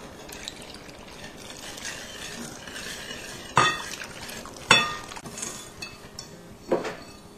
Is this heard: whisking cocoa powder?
yes